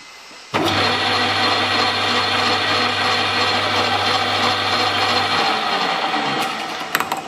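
A lathe in a home workshop turning a piece of old stock, a loud steady mechanical whir with a low hum starting abruptly and running evenly before winding down near the end.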